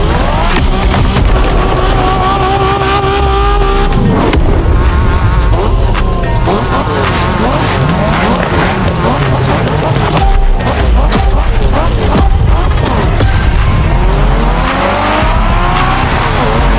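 A race car in The Crew Motorfest roars at full volume through a Japanese street race, with engine revs rising and falling and repeated tire squeals and skids, all loud and dense throughout.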